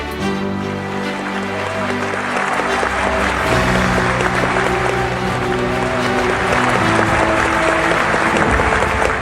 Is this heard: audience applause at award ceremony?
yes